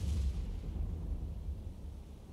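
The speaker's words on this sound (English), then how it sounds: "Got explosions out there." Muffled, rumbling explosions from the submarine warfare game Cold Waters roll through a low, continuous boom that swells at the start and fades slowly, with no voices over it.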